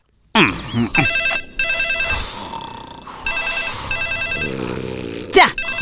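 A telephone in a movie scene rings in repeated electronic trills, loud and close, with short gaps between the rings and voices talking over parts of it.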